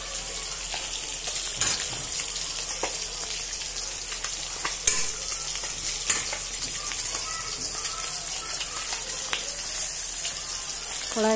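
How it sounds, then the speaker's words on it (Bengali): Fish sizzles and spits steadily in a hot pan of oil, a dense continuous crackle with occasional louder pops and stirring clatter, close and fairly loud throughout. "এই দেখো বন্ধুরা, মাছ ভাজা হচ্ছে"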